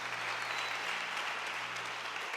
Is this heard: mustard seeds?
no